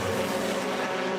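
BTCC touring race car running off the track into gravel at Donington's Craners descent, a dense continuous roar of engine and crunching gravel, loud and sustained for just over a second.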